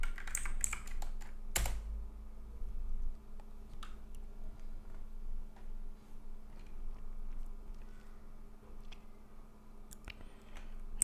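Typing on a computer keyboard, a steady run of close, light key clicks with a few louder strokes, heard alone with no talk while setting up a VoIP phone server.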